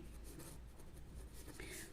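Pen or marker scratching across a board or paper during a Class 9 maths lesson on number systems, soft continuous strokes with a brief brighter squeak near the end, low room hum beneath.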